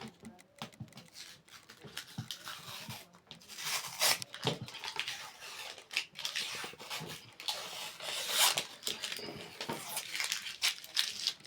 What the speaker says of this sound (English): So what I want to do now is just to peel off this paper, peel everything off.